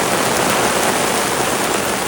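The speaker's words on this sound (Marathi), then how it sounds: "पाऊस आला चांगलाच कसलाच पडतोय" Heavy rain pours down in a loud, unbroken roar, dense and close, with nothing else audible.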